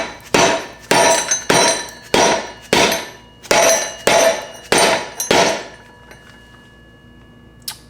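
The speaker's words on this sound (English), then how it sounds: "Let me see if I can hit it with a hammer and if it moves at all." A hammer strikes a stuck part on an abandoned go-kart eight times in a fairly steady rhythm, each blow a loud, sharp metallic clang ringing briefly, close by, then quiet.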